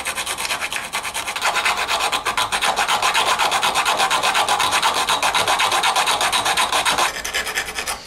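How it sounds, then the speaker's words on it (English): A hand file rasps steadily across a steel armor lame, with rhythmic back-and-forth strokes that grow louder and continuous for several seconds before easing off, close and alone. "So when you're filing, just be aware of that and be careful."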